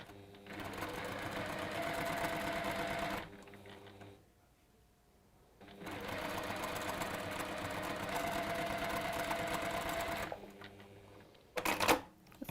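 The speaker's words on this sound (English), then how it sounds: "So I've just sewn one strip onto the one side, and then I'm going to sew another strip onto the other side" A sewing machine stitches fabric strips in a workshop, two long steady runs of fast, even mechanical whirring separated by a quiet pause, followed by a brief clatter at the end.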